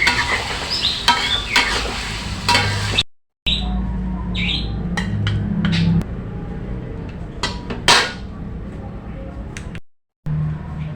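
Jengkol is stir-fried with red chili in a pan for a Padang-style dish, with steady sizzling and spatula scraping throughout, broken by brief silent cuts, while birds chirp outside.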